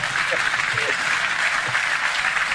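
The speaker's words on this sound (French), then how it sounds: "Et vous applaudissez parce qu'on le sait tous ici." An audience applauding at a live French comedy show, steady sustained clapping from a crowd filling the whole stretch, with some voices mixed in.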